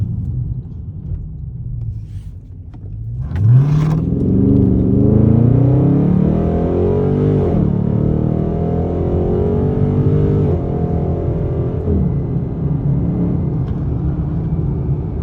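A Dodge Scat Pack's engine rumbles low, then roars as the car accelerates hard, the pitch climbing through the gears in a loud, sustained pull heard from inside the car.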